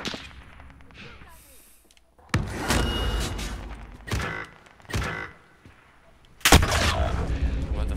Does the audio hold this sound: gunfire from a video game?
yes